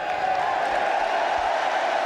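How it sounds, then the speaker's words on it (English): A cricket crowd at a New Zealand versus Australia one-day international gives a big sustained cheer, a dense steady roar from a distance with no clear breaks, and a commentator's voice faintly beneath it. "And the big cheer, as you'd expect."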